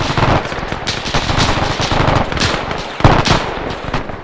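Loud, close gunfire in a WWII combat video game set during Operation Market Garden: continuous machine-gun bursts with a sharp heavy shot near the three-second mark.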